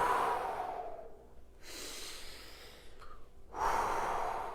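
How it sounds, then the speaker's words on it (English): Breath exhaled during a home workout back-rolling exercise, two long airy exhales in a row with a short pause between, close and fairly loud, no talking. "And you exhale as you go."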